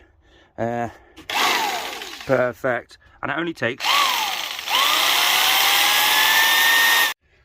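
A loud electric power tool, powered by an EcoFlow River 2 Pro portable power station and drawing about 300 watts, whines in several short bursts, then runs steadily for a few seconds, rising in pitch, with a voice speaking between bursts.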